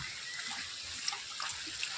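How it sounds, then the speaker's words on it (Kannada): Water in a stream at Hoovinakolla near Ramdurg flows in a soft, steady trickle with small splashes, faint and unbroken. "ನೀರು ಮಸ್ತ್ ಹರಿಯಾಕತ್ತೈತಿ"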